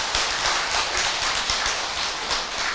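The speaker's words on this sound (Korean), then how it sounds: "거기 다 갈 사람만 박수 한번 쳐봐요." An audience at a Buddhist sermon breaks into steady, sustained clapping that fills the room, with many hands beating together and no voices heard.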